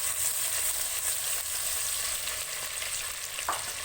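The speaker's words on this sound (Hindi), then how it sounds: "1 से 2 मिनट के लिए प्याज भूनना है।" Onions for palak paneer sautéing lightly in a pan, a steady hissing sizzle at moderate level with a faint utensil clink near the end, no talking.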